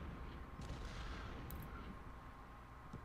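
Artillery fire from a Civil War battle in the strategy game Ultimate General: Civil War, heard as a steady, dense rumble of distant cannon and musketry that runs unbroken through the clip at low level.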